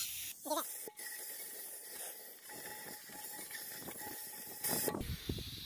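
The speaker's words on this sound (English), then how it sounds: "And take your compressed air." Compressed air blowing in a workshop while servicing a Troy-Bilt Super Bronco tiller, a steady broad hiss running the whole time, with short sharper bursts near the start and again near the end.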